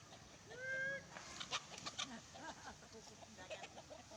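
Native chickens on a rural Filipino homestead cluck and crow, with one clear rising rooster call near the start followed by scattered softer clucks and bird chatter in a quiet outdoor setting.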